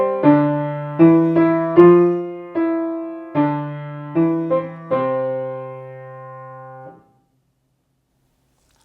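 Simple piano piece of a couple of bars, played for a beginner aural test, heard as about ten clear notes and chords in a steady moderate rhythm that ring out and decay into silence, close and loud with no talking.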